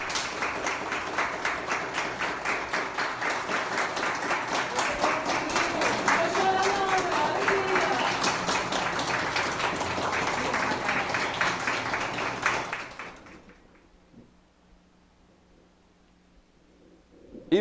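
Applause for a recovered coronavirus patient in Linhares, with dense clapping and crowd noise and some voices mixed in, running steadily for about twelve seconds before cutting off to near silence.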